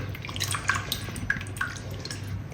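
Sardine curry broth, thickened with tamarind, is poured into a pan as a steady trickle of liquid with small drips and splashes. It is close and moderately quiet, with no talking.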